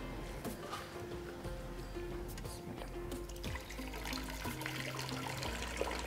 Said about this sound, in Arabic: ونحطوا الماء هوني تصبوا هذاك الكل هوني